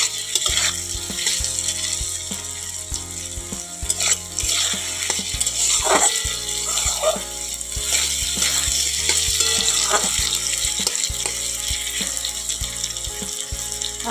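Potatoes and tomatoes sautéing in a pan with turmeric and chili powder, giving a continuous wet sizzle broken by irregular scraping and stirring clatter, close and steady throughout, with no talking.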